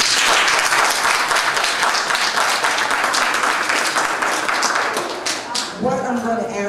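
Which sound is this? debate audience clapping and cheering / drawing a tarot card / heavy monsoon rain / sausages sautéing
debate audience clapping and cheering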